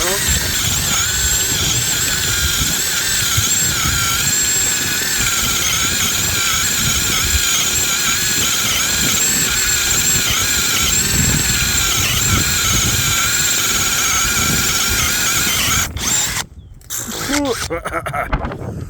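A small drill whines steadily for a long stretch, its motor pitch wavering slightly as it bores into fresh ash wood, then it stops and restarts briefly.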